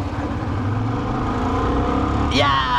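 A Royal Enfield Scrambler 350 motorcycle engine, rated around 20 bhp, runs close by with a steady, throbbing single-cylinder rumble, and a brief rising whine appears near the end.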